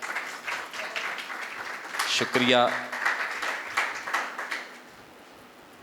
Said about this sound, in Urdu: تالیاں بجائیں ذرا زوردار